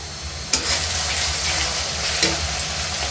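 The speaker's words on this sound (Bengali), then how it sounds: "এখন পেঁয়াজগুলোকে আমি বেজে নেব। আমি গরম মশলা দিয়ে দিলাম।" Onions frying with garam masala in a pan make a loud, steady, close sizzle, broken by two sharp clinks of a spoon stirring against the pan, no talking.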